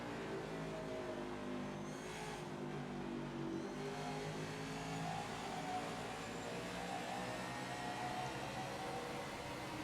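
Stock cars race in the NASCAR 21: Ignition video game at Richmond, including the 48 car, with a steady, dense engine roar throughout and no talking.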